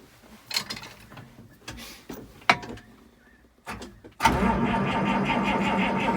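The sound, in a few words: 1955 White truck engine cranking on the key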